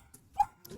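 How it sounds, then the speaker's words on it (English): A single short bark or yip from a dog alerting to someone downstairs, faint and brief indoors. "Sorry, Aries, I had to get rid of the dog."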